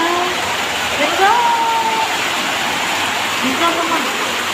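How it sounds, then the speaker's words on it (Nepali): Hail and rain pelt a courtyard in a steady, loud hiss, with a few faint tonal calls or voices drifting over it. "आज फेरि असिना पानी भित्रै आइरहेको असिनाको डल्ला डल्ला देख्छ"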